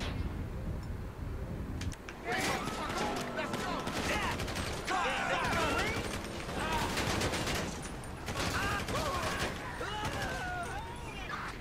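Enemy gunfire in GTA 5, sustained bursts of rapid shots and fusillades crackling over several seconds, with someone talking over the shooting.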